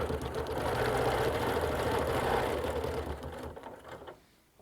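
A sewing machine stitching a quilt along a ruler, running in a fast, steady mechanical whir up close before slowing and stopping near the end.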